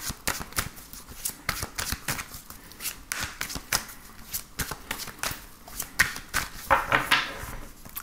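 Tarot cards are shuffled and cut by hand in a run of quick, crisp riffling and slapping bursts, close up and fairly quiet, with no talk.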